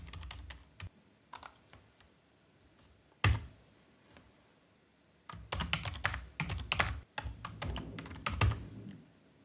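Computer keyboard typing in bursts of quick key clicks with short pauses, while an admin password is entered on a Palo Alto VM-Series firewall instance over SSH; close and clear, no talking.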